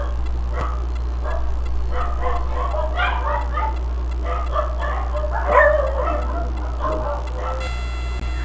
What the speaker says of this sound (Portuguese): Um minutinho porque tem cachorro latindo.